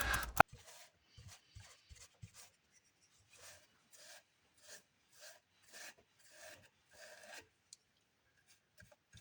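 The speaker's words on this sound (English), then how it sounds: "hand sanding lightly between the coats" Wood being hand sanded lightly between coats of polyurethane on a farmhouse-style furniture build, heard as soft, intermittent rasping strokes in short bursts, close and quiet, with pauses between passes.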